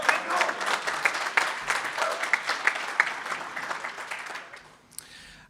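Club supporters at a Nashville SC MVP press conference cheer and clap, with sharp rhythmic bursts of applause and whoops that taper off, then a single sharp high sound at the close.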